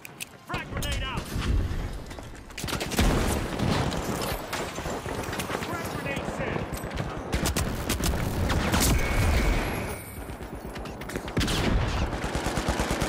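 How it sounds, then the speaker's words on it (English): A frag grenade and gunfire in the video game The Finals make dense, continuous bursts of shots and explosive cracks. The noise stays loud and busy throughout, with chaotic game effects layered over it. "Frag grenade out!"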